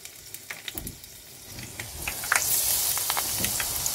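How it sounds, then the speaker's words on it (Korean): Acacia flowers coated in frying batter deep-fry in hot oil, a soft crackle of scattered pops that builds into a steadier, louder sizzling hiss, close by with no talking. "아카시아 꽃에 튀김 가루를 입혀서 튀겨 먹으면"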